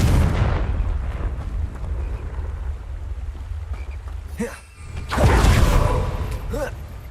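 Confringo blasting spell explosions in Hogwarts Legacy on Xbox Series X, loud booming bursts with a big blast near the end, alongside spoken spell incantations.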